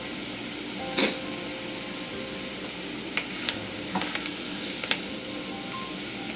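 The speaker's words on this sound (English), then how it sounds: "we are just going to cook" Chopped vegetables for étouffée cooking in a pan over medium-high heat give a steady, even sizzle, broken by a few sharp scraping clicks as they are stirred.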